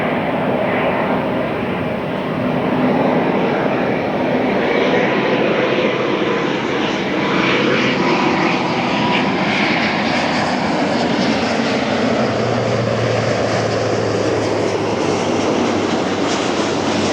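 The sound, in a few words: Airbus A350 jet airliner at LAX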